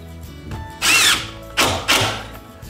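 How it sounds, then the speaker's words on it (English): A power drill drives screws into a drywall sheet during a DIY install, with three sharp, close whirring bursts: one longer, then two quick ones. "Throw a couple of screws in the middle of the sheet."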